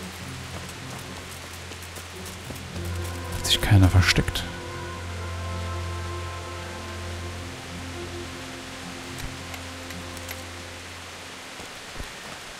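Steady rain hisses across the whole scene in Kingdom Come: Deliverance, a soft constant wash beneath sustained game music tones, with someone talking over it and a brief louder burst of noise early on.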